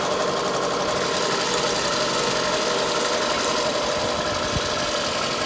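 A car engine idles on its own power with an uneven, knocking misfire, heard up close as a continuous rough rumble with no talking.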